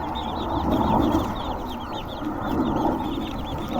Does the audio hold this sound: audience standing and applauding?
no